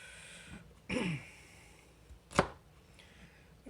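A knife cuts through half a stalk of celery, giving one sharp crunching chop followed a moment later by a second brief, crisp snap, close and fairly quiet.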